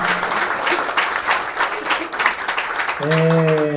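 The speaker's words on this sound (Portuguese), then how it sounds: "uma salva de palmas para Magé." An audience at a literary talk applauds with a steady patter of clapping, while a voice speaks over the end of it.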